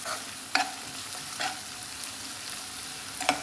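Fish roe roasting in a pan gives a quiet, steady sizzle, broken by a few sharp scraping stirs spaced a second or so apart.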